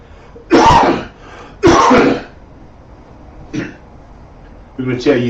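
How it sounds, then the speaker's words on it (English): Two sharp, loud coughs/throat clearings close together, followed by a softer cough and then a short vocal sound, close to the mic. "Excuse my cough."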